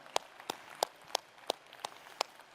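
A few people clap at a Xiaomi 13 global launch event, sparse, evenly spaced sharp claps, about seven in a row, with a quiet gap between each one.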